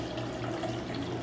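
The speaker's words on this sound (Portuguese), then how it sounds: "200 ml de água quente" Hot water, 200 ml, pours in a steady, close stream for a jelly-based cocktail syrup at a bar counter, a brief continuous splashing gush with no talk.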